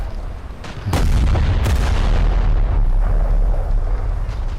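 Naval ship guns fire shells in a World War II-era naval combat video game, with the Pittsburgh cruiser: a loud, close deep boom opening into sustained heavy rumble, with a second sharp blast shortly after and a long rolling tail.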